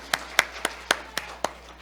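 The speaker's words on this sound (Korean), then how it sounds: "그래서 여러분 다시 한번 박수." Church congregation on Christmas Day giving a round of applause: six sharp, evenly spaced claps, close and fairly quiet, with no voices.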